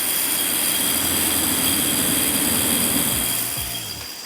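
A Boost Squared square yoyo spins with a loud, steady rushing whir like wind close by, holding even for several seconds and then easing slightly at the end as the spin slows.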